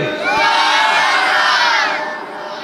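A congregation of young men at an Islamic sermon gathering roars the takbir call in unison, a loud, sustained mass of voices lasting about two seconds before tapering slightly.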